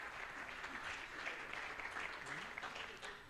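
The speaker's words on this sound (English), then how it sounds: "Can we give another round of hands of applause to this beautiful team?" A faint, distant crowd at a launch event for an African accelerator program gives a sustained round of applause for a team, with soft, continuous clapping and no clear talk over it.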